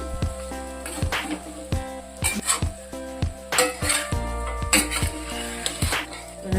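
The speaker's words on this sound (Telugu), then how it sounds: "కారం పచ్చివాసన పోయేటట్టుగా 2 నిమిషాలు తిప్పుదాము" A utensil repeatedly scrapes and knocks against a pan while chicken pickle masala is stirred. The sharp metallic clinks come in an irregular rhythm, close and fairly loud, with little talk.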